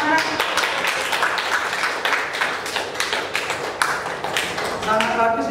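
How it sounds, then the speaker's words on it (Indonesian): A classroom of students applauding together, steady dense clapping throughout, close and loud. "Oke, tepuk tangan."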